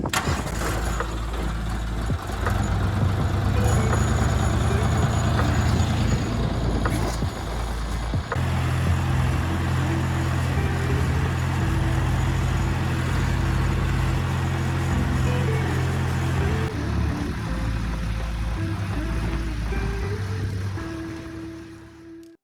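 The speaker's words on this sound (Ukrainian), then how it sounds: "тракторець не байдикує, а працює" A DTZ 5354 tractor engine runs steadily and close by, with a low rumbling drone that shifts pitch partway through, then fades at the end.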